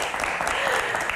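Brief burst of studio audience applause on a television Q&A talk show, dense even clapping that fills the moment without pause.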